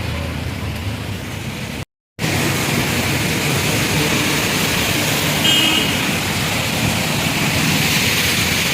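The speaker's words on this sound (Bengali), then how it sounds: "প্রচণ্ড বৃষ্টি নেমেছে দেখো রাস্তাঘাট অবস্থা দেখো" Loud, dense heavy rain roars steadily on a street in Kolkata, broken only by a short gap of silence, with a constant broadband wash throughout.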